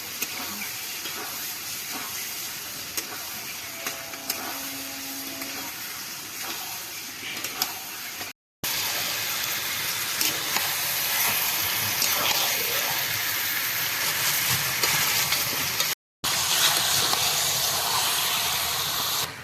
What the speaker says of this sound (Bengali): এবারে এর মধ্যে কেটে রাখা মাংসগুলো দিয়ে দেবো